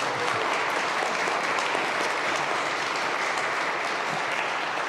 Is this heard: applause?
yes